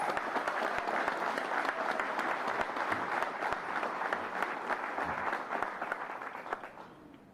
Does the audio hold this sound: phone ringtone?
no